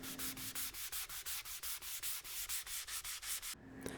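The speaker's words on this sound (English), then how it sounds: "After the binding's done, I'll hit it with a sanding block." Rhythmic back-and-forth rasping of a sanding block on a guitar's wooden body binding, about fifteen even strokes in quick succession, close and loud, then stopping.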